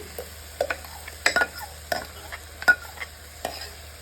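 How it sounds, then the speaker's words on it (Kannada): Ground masala goes into sprouts frying in oil with onion, followed by a spoon scraping and stirring the pan in sharp, intermittent strokes over a quiet sizzle. "ಇವಾಗ ನಾನು ರುಬ್ಬಿದ್ದೀನಲ್ಲ ಈ ಮಸಾಲೆ ಹಾಕ್ತೀನಿ"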